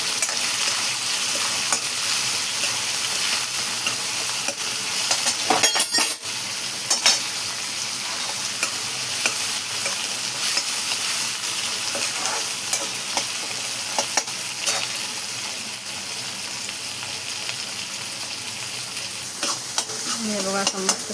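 Onion, tomato and salt frying in a pan while being stirred, a continuous close sizzle with periodic scraping and a clink of the spoon against the pan, no voices over it.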